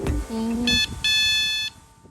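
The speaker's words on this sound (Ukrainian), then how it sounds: "Зелена кнопка вмикає сигнал горну." Electronic horn signal of a Tiras JOB 36V 600W three-wheeled electric tricycle, two short high-pitched beeping bursts sounding close and loud, preceded by a brief voice.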